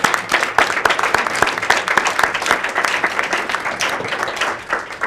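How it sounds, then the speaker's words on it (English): A book signing audience for a school mentoring program gives a sustained round of applause, dense steady clapping from many hands that holds for about five seconds at close range with no talk over it. "I'd like everybody to give them a big round of applause for doing this."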